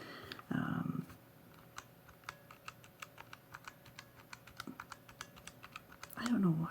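Keys clatter in a steady run of sharp clicks at close range, with a soft voice speaking at the start and a brief murmur near the end.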